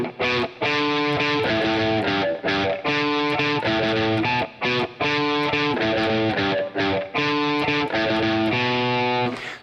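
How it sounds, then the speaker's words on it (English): A distorted electric guitar follows the bass line of a song's verse, with punchy repeated low notes in short phrases broken by brief gaps, loud and close, with no voice over it. "The second guitar will be following the bass line, and it'll sound like this."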